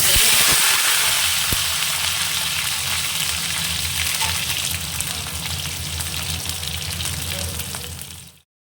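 Taro pieces fry in oil over low gas, a dense continuous crackling sizzle with an even, rain-like texture that stays steady before cutting off abruptly at the end.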